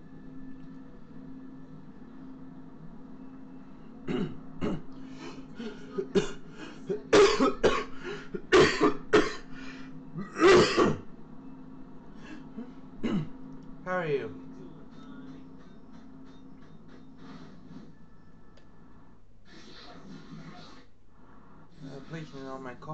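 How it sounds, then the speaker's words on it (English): A person coughs and clears their throat repeatedly, with a cluster of loud, close coughs in the middle and quieter ones before and after, over a low hum with some voice present. "Please ignore my coughing."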